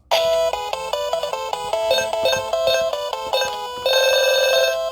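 A Tetris mini arcade handheld plays its countdown jingle: a run of bright, electronic beeping tones stepping through short notes. It ends on a sustained higher tone, loud and alone without any voices.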